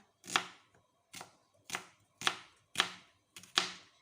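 Six crisp knife strokes slice through shallots onto a cutting board, evenly spaced and close by, with no talking.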